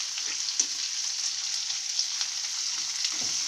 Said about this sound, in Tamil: இப்போ இதோடு போட்டு இந்த வெங்காயம் இந்த மிளகாய் கொஞ்சம் நேரம் வதங்கட்டும்